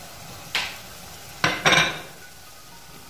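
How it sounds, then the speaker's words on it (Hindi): A spoon scrapes and clinks in a pan as potato and eggplant fry in onion-tomato masala: three quick stirring strokes over a soft, steady sizzle, close and fairly loud. "और थोड़ा सा भून लेंगे।"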